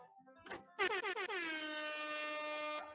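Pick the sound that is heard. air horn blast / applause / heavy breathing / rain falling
air horn blast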